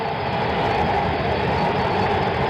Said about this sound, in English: the new BART train. The transportation system here in the Bay Area has been pulling up beyond the center field bleachers